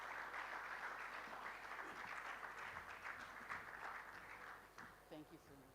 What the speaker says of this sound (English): Please keep the applause coming.